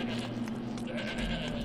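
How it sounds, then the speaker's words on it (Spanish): In the video game Shadow of the Damned, sheep or goats bleat in a wavering call that runs through the whole moment, heard over a dense, constant game soundtrack. "Oigo balidos. Comprueba tu cabradar."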